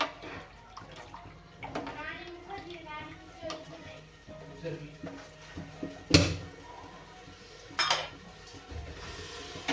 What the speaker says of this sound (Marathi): आता मी पातेलं ठेवलं आहे मोठं